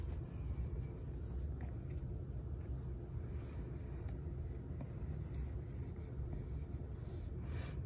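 Colored pencil scratches across paper during a loose sketch, a soft, continuous scraping close to the microphone with a low rumble underneath.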